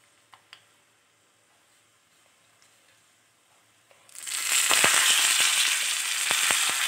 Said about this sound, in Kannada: ಸ್ವಲ್ಪ ಫ್ರೈ ಮಾಡ್ಕೊಳ್ಳಿ ಇದನ್ನು